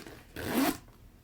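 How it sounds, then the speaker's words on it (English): A plastic zipper on a small nylon bag is pulled in one quick close pass, a brief raspy zip of under half a second at close range, with quiet handling before and after. "And then here on this nylon bag, we also have a plastic zipper."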